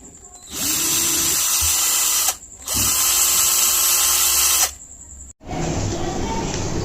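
A power drill fitted with a keyless chuck whirs in three steady, fairly loud bursts separated by short pauses, with a sustained high motor whine throughout.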